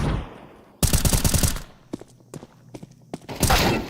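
Counter-Strike gunfire during a 5v5 retake at a PGL Astana 2026 match: a loud rapid burst of automatic fire, a few scattered single shots and footstep thuds, then another heavy burst at the end.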